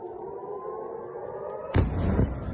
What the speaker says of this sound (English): They got those ghoulish air raid sirens going off